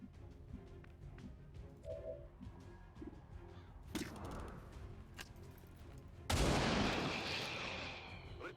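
Video-game sniper rifle and artillery-like shots ring out in a sci-fi alien shooter, with a few sharp reports and a big, loud blast near the end that booms and decays over several seconds.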